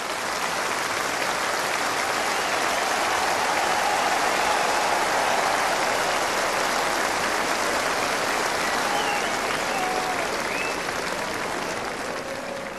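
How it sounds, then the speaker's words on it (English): Sustained, dense applause from a large crowd at an open-air concert in Maastricht, greeting a singer; a steady roar of clapping that runs evenly through the whole stretch without pause. "Give her an enormous applause."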